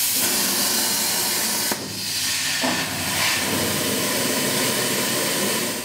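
A PlasmaCAM CNC plasma cutter slicing through metal gives off a loud, steady hissing roar that kicks in abruptly and holds at constant intensity, with a brief surge partway through and no voices.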